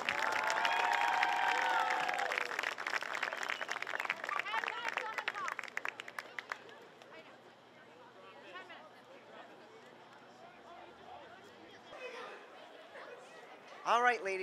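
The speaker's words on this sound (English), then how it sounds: "One more round of applause for the Scarlet Knight seniors." A crowd at a girls' varsity high school soccer game claps and cheers for the senior players; loud applause for several seconds fades into quieter crowd chatter and scattered voices.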